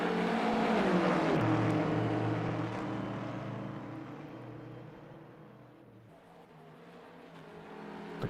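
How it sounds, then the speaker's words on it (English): Corvette and BMW GT3 race cars in a sim racing game at the Nürburgring Nordschleife, a loud engine roar that shifts pitch and gradually fades before swelling again near the end, with no talking. "Look at Jack Evans here in that Corvette all over the back of this BMW."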